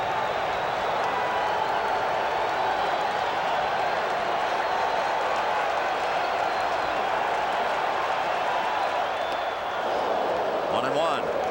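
A packed baseball stadium crowd at a 1986 World Series game between the New York Mets and Boston roars continuously, a broad, loud, sustained rumble of cheering with a broadcaster's voice faintly underneath.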